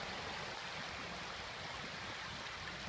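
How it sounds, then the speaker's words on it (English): Muddy drainage water rushes steadily across an eroded residential property, a faint continuous wash with no talk. "Mike's property, the Grand Champs, you can see it's rushing from my property across his property"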